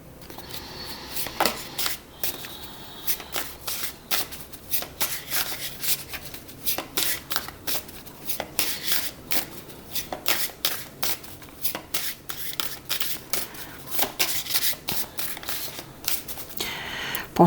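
Oracle cards are shuffled by hand close up, a run of quick papery riffles and soft slaps repeating irregularly at moderate loudness throughout, with no talking.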